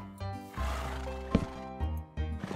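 A horse in Minecraft whinnies and snorts in short bursts, close and fairly loud, with brief pauses between calls.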